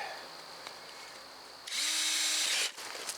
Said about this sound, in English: Think that drill's dull?